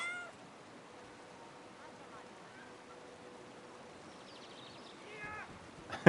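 A cat in the video game Brothers: A Tale of Two Sons meows a few times, faint at the start and clearer near the end, over a quiet flowing-water ambience.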